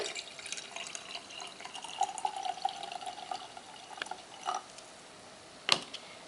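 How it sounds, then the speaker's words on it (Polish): Water trickles and drips into a glass jar as it is filled about halfway with one colour of water, a soft, steady pouring close by with a few light splashes and clinks. "Słoik staramy się napełnić mniej więcej do połowy. Najpierw jednym kolorem wody."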